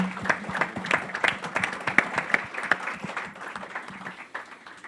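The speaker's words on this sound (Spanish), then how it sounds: "Un aplauso, por favor, para su compañero." An audience at a residents' academic medical session breaks into steady, dense applause, many hands clapping together loudly for about five seconds.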